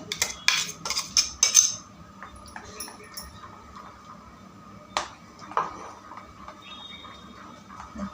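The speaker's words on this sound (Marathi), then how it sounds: "छान असं फेटून घ्यायचं" Coconut dosa batter being whisked in a bowl, quick bursts of clinking and scraping from a utensil against the bowl early on, then sparser knocks, fairly quiet with no voices.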